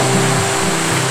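Ocean surf rolling onto a white-sand beach at Cancun, Mexico, a steady close wash of breaking waves filling the whole moment with no voices.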